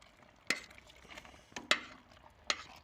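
Stirring a creamy bacon, chicken and mushroom casserole in a pan: a few sharp spoon scrapes and clinks against the metal, spaced about a second apart over a faint sizzle, fairly close and not loud.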